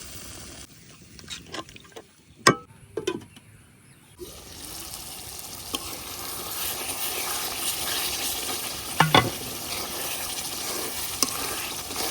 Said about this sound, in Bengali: মশলাটা কষানো হয়ে গেছে, উপরে তেল ছেড়ে দিছে।